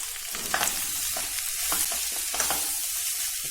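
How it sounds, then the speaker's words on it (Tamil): Chopped snake gourd sizzles steadily in a hot pan, with intermittent scraping and stirring strokes throughout. "இப்போ இந்த புடலங்காவையும் சேர்த்து நல்லா வதக்கி எடுத்துக்கலாம்."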